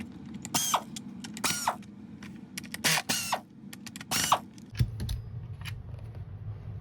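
A pneumatic screwdriver backs Phillips screws out of a Dyson vacuum cleaner head, several short, sharp, near bursts of whirring and ratcheting separated by pauses, followed by low handling noise.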